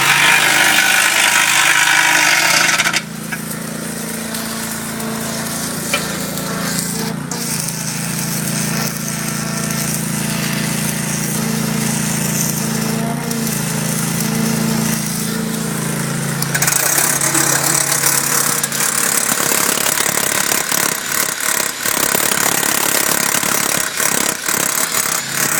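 A drill bores holes into a wall for dock bumper anchors, a loud sustained grinding motor roar with changes in pitch and intensity, close by, over a steady engine-like background.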